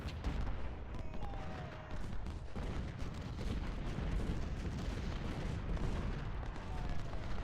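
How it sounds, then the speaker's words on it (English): Artillery canister fire in the Civil War strategy game Ultimate General: Civil War, with dense overlapping booms and crackling musketry forming a continuous loud battle din. "Goddamn Yankee artillery. That's a pretty long canister shot."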